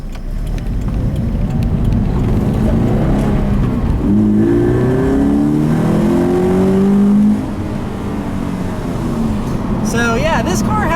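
A 2013 Scion FR-S with a manual gearbox revs up while driving on a back road, the engine note rising in pitch through the gears before easing off, heard from inside the cabin with some talking in the background.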